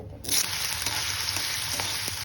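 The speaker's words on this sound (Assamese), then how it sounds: "মাছখিনি ফ্ৰাই কৰি ল'লোঁ আলু দিম" Dried fish and potatoes fry in a pan, a bright steady sizzle that bursts on after a moment of quiet and crackles evenly throughout.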